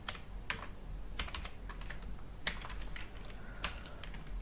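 Rapid, irregular clicking of a computer keyboard while someone types code for a Node.js TypeScript project. The keystrokes are close and steady, with occasional sharper taps, and nobody speaks.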